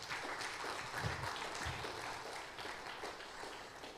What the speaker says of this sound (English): Can we have a round of applause for Moses Akash?